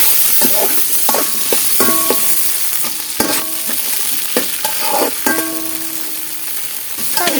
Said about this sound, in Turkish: İlk önce biberleri şöyle bir kavuralım.